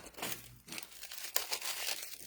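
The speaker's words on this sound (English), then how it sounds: "It is shrink wrapped, so you want to get the packaging off." Shrink wrap is peeled and crinkled off an ink pad, close crackly plastic rustling in short uneven bursts.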